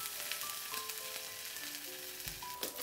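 Beef strips grill on a hot surface for Thai crying tiger, sizzling with a steady, close crackle and spatter and occasional sharper pops throughout, with no talking.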